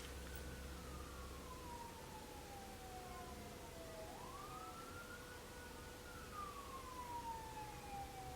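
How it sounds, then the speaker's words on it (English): Fire truck sirens wail faintly from outside, their pitch rising and falling as they pass, distant and muffled against a steady indoor hum. "Now there's fire trucks going on outside"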